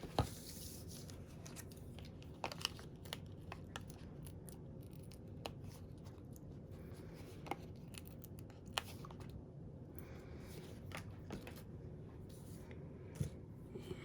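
Scissors trimming paper cardstock for a handmade card, quiet scattered snips and light paper rustles spread over the stretch, close but faint, with no talking.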